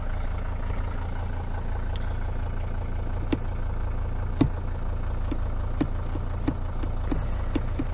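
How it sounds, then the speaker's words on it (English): A 2006 Sprinter 3500 van engine idles with a steady low rumble, broken by occasional sharp ticks and clicks, with no talking. "I'm just happy that it goes above an idle and that it starts."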